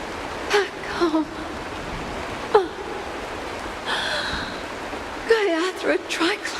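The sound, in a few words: rain falling in video game Honkai Star Rail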